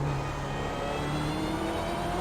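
A race car's engine revs up close and loud as it accelerates out of a corner on a circuit, its tone rising steadily across the short stretch.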